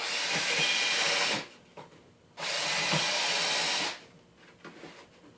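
Two sustained bursts of a power drill pre-drilling plywood with a countersink bit, each about a second and a half, with quiet gaps and faint handling noises between.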